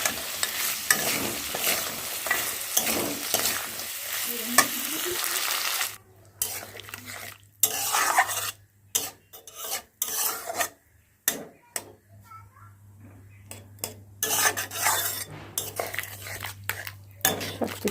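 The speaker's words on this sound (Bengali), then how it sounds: "ফুলকপি, গাজর, বড়ি ভেজে একটা পাত্রে তুলে রেখেছি, এগুলো এবার দিয়ে দেবো। ভালো করে মিশিয়ে নেব।" Fried cauliflower, carrot and bori are stirred together in a pan, scraping and clattering under a continuous frying hiss, then breaking into choppier strokes of the spatula with brief gaps.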